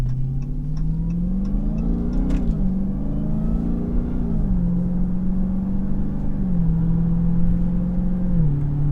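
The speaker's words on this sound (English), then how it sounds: "One thing that's undeniable is that supercharger whine is just glorious, and nobody's really doing that as well as Dodge with these Hellcat engines." A 2020 Dodge Charger SRT Hellcat Widebody's supercharged engine revs loud and close, its pitch rising and falling through several pulls with a steady drone that carries a supercharger whine, with no voices over it.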